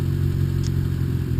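Honda D15 1.5 liter non-VTEC four-cylinder idling through a Magnaflow exhaust with a high-flow catalytic converter, a steady close low burble in a brief stretch.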